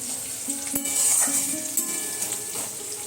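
Lunch being fried and stirred in a pan at home, a steady sizzle with scraping stir strokes and a few clinks of utensil on pan, no talk.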